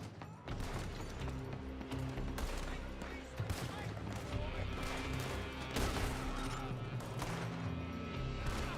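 Gunfire during a Red Dead Redemption 2 shootout, repeated loud shots and crashing impacts packed together in a continuous barrage, with faint game voices mixed underneath.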